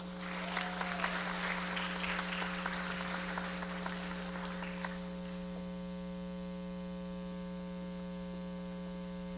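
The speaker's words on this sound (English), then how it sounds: "Let's have another round of applause for our inductees in National Honor Society" Applause for National Honor Society inductees at a senior high induction ceremony, a crowd clapping for about five seconds before fading into a steady electrical mains hum that carries on alone.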